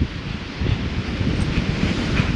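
Waves wash steadily onto a quiet private beach on the Italian coast near Rome, a continuous close rush of surf mixed with wind buffeting.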